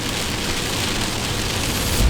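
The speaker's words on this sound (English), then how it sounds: "now out of nowhere, it's just raining like crazy" Heavy rain pours down around a camper van on a road trip toward Flagstaff, Arizona, a dense, steady hiss with no pauses, close and loud, swelling slightly at the end.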